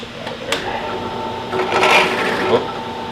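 A small electric drill whirs steadily at its slowest speed, its pitch rising and grinding slightly midway, with faint background voices.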